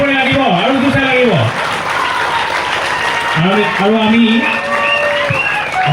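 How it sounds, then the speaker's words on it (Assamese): Sustained audience applause at a school award ceremony rolls beneath someone speaking over a loudspeaker. The clapping stays dense and steady throughout, with his amplified voice clearly on top. "হাত চাপৰি ৰ'ব নালাগে, হাত চাপৰি লাগিব আৰু জোৰছে লাগিব।"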